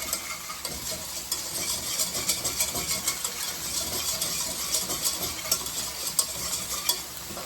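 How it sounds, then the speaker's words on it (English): A flour-and-fat roux is stirred in a pan on the stove, a steady close sizzle with repeated scraping and spoon strokes against the pan bottom, continuing throughout with no talk. "you do not want it to burn or stick to the bottom of the pan. And this is called a roux."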